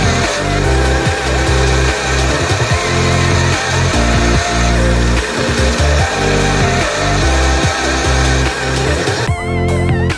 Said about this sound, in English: I'm going to go ahead and hit that stuff on the belt sander really quick